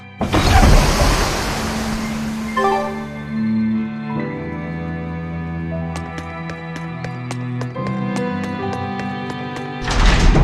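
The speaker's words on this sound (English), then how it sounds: "Scout ship setting sail." A scout ship sets sail in the Tales of Berseria video game, with a loud rush of ocean waves and wind at the start. Calm tonal music follows, and the surf swells back in at the end.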